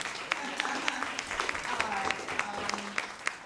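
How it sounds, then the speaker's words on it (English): Audience clapping at an arts luncheon, a modest, scattered patter of hands in a room, moderately quiet, with voices murmuring beneath the applause. "You can clap."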